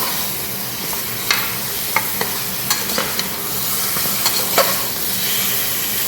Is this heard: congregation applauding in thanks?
no